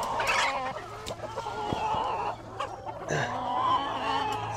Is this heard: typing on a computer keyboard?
no